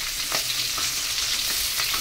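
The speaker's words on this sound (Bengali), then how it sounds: "দেখো পট পট করে ফাটছে" Live tangra fish fry in hot oil, giving a dense, loud sizzle with sharp popping crackles scattered through it, heard close and without speech.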